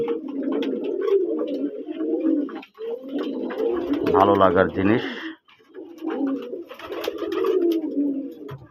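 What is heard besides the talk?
native Bangladeshi pigeons cooing in a loft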